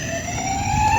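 A toy fire truck and ambulance emit an electronic siren, a steady high wailing tone with bright harmonics, close and continuous for a brief moment.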